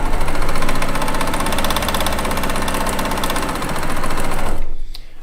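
A sewing machine runs fast and steady, stitching a quilt top with a rapid, even mechanical chatter, loud and close, before stopping abruptly near the end.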